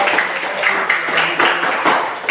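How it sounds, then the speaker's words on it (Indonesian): Applause for a student group in a classroom: scattered, fairly close clapping from a small audience, continuous for a couple of seconds. "Berikan aplaus untuk kelompok 2."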